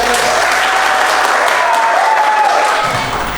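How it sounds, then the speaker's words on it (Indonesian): Audience applause fills the room at a health institute teaching session, a steady, dense clapping held loud and close for several seconds before tapering slightly at the end. "Kita beri aplaus untuk Esther."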